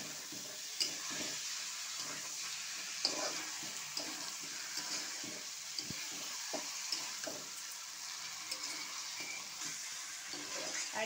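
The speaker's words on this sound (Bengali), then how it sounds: "তারপরে আমি এই যে মাংসটাও ঢেলে দিচ্ছি" Chicken meat sautéed with spices in a pan for a home-style chicken curry, giving a steady soft sizzle with scattered scraping and stirring clicks at a moderate distance, no talking.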